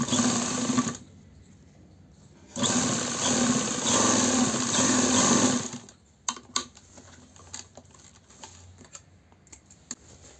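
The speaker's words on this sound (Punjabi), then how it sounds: "ਹੁਣ ਆਪਾਂ ਲਾ ਰਹੇ ਆ ਫਿਟਿੰਗ ਵਾਲੀ ਸਲਾਈਆਂ ਆ" A sewing machine stitches the fitting seams of an embroidered suit, a dense steady mechanical whir in two long close bursts separated by a pause, then trailing into scattered clicks and handling knocks.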